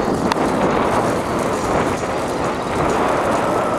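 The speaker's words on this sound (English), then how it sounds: "It's a bit windy for that" Steady, loud wind buffeting the microphone, a continuous low rumble and roar with no voices.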